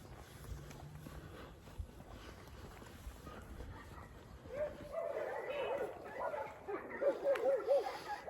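Dogs bark in a few loose bursts in the latter half, moderately near, over a steady background hum.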